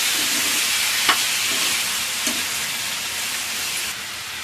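Chopped tomatoes sizzle and fry steadily in a hot pan while being cooked for butter chicken, a continuous bright hiss with a few soft stirring clicks and no talking.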